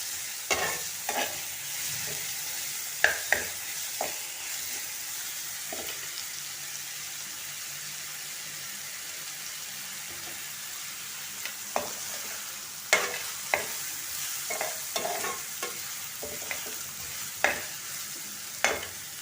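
Onions with salt cooking in a pan for a Marathi vegetable dish, a steady soft sizzle under repeated sharp scrapes of a spoon stirring, with bursts of stirring early on and again in the second half.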